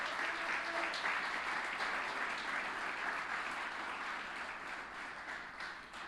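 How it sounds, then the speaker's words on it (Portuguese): A church congregation claps hard in a sustained round of applause, dense and steady for several seconds, gradually easing off slightly toward the end. "dê um aplauso mais forte que você pode na sua vida"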